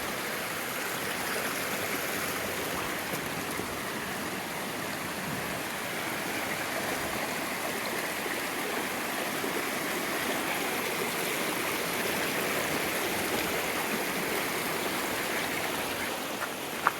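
A mountain stream rushing at a hiking-trail water crossing in New Hampshire's Lincoln and Lafayette area, a steady broadband wash of flowing water, close and unbroken throughout.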